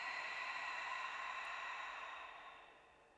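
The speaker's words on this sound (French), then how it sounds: "souffle en dégonflant le ventre comme un ballon." One long, slow breath blown out through the mouth during prenatal yoga breathing, a soft, steady airy hiss heard close up that fades gradually toward the end, with no speech.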